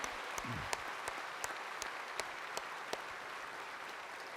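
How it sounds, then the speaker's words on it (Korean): Broad, steady applause from a large church congregation fills the space, a dense wash of clapping with a few sharper claps standing out. "저분들에게 큰 박수 한번 해주시면 고맙겠습니다."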